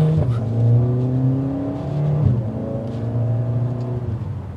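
A 2022 Mercedes-AMG GLA45 performance SUV accelerates hard, its engine note climbing steadily through the revs, dipping briefly at a gear change and then rising again, loud and close.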